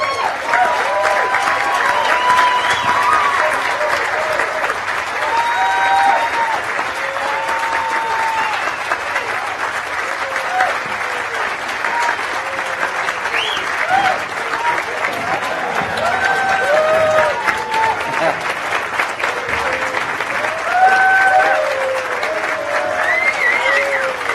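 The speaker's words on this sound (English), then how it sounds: "So a big round of applause for Stephanie." Sustained audience applause at a global BEM movement gathering in a tent venue, dense steady clapping mixed with faint crowd chatter and scattered whistles, loud and continuous throughout.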